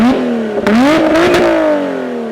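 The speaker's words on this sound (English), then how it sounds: "like this exhaust sounds insane" A Lotus Evora GT's loud, close engine revs up with rising pitch, blips again, then winds down, its exhaust crackling slightly as the revs fall.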